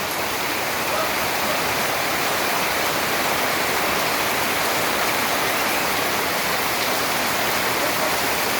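Heavy rain pours steadily as a dense, even hiss, loud and continuous throughout with no voices or pauses.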